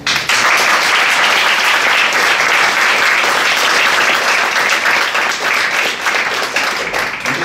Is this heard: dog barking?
no